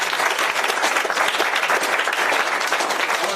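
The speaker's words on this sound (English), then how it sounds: "A round of applause for Apollo Conference champions" Sustained applause from a school board meeting audience honoring the girls golf team, Apollo Conference champions; dense, steady clapping fills the whole stretch, close and even, with no pauses.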